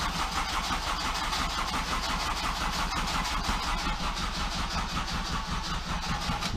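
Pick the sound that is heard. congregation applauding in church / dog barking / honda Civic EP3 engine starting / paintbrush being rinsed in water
honda Civic EP3 engine starting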